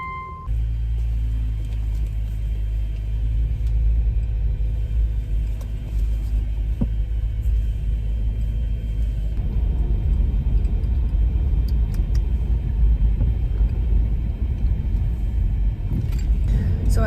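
A car drives steadily along a road, heard from inside as a continuous low engine and road rumble that persists throughout with no pause.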